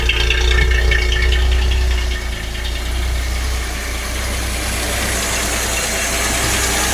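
A 1976 Datsun 280Z engine with a leaking fuel injector runs close by. A steady, loud idle drone holds throughout, with a slight drop in level after two seconds.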